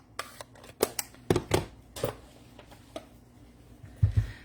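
A die-cutting machine works paper flowers for handmade cards in a quiet room, giving scattered sharp clicks and snaps in uneven rhythm, close and fairly soft, with a couple of heavier thumps near the end.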